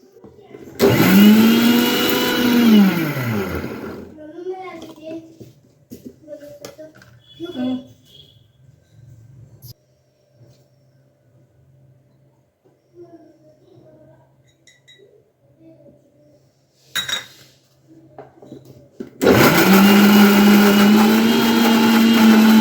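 A mixer grinder grinding dry coconut masala and onion, two loud whirring bursts whose pitch dips and climbs as the blades labour. A quiet stretch with faint clinks separates them, and there is also a voice.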